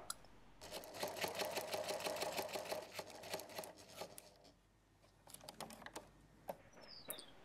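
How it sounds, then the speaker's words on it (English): A sewing machine runs a straight stitch along the seam line of kite fabric, a rapid rhythmic clatter for about four seconds, then a pause and a few short bursts, close and fairly quiet. "And you just sew a straight stitch along the sewing line."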